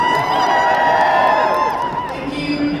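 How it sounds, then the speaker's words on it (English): A crowd at an MCM Comic Con Birmingham convention panel cheers and applauds loudly and continuously. Whoops and shouts ride on top of the noise, which eases slightly toward the end. "Thank you for all that applause from the show that I was on."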